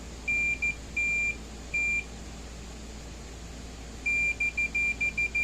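Continuity tester on a Gallagher cattle scale load bar cable sounding a sharp high beep, first a few short and long tones, then after a pause a rapid run of short beeps, close and clear over a faint hum with no talk.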